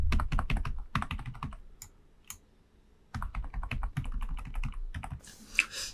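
Computer keys clatter in quick bursts of separate taps, close by and crisp, with a short lull in the middle before the tapping picks up again, during adjustment of objects in SketchUp modelling software.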